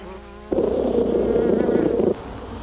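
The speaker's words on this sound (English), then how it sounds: "A short time later, our saucer is filled with bees." A loud, steady buzzing of many bees swarming a saucer of sugar water close by, starting abruptly and cutting off after about a second and a half.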